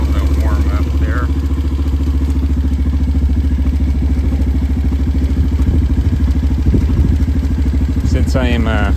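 A Kayo 150 motorcycle fitted with a smart carb idles steadily and loud up close, a continuous low throbbing engine note that holds even throughout, with a brief rise in revs near the end.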